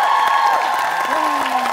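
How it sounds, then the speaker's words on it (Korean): Audience applause in a Korean TV variety show studio after a pole performance, loud clapping throughout the short moment, with a voice talking over it. "감동의 그리고 환영의 박수를 부탁드리겠습니다"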